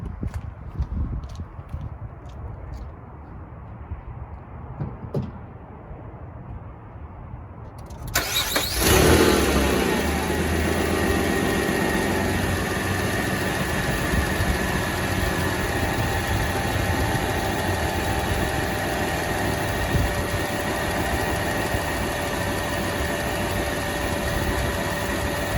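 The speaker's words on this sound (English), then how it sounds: "let me turn the vehicle on" A 2004 Pontiac Montana with the 3.4 engine, suspected blown head gasket or cracked block, cranks and catches partway in, then settles into a steady, loud idle with a brief rev, close up.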